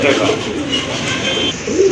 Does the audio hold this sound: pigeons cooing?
yes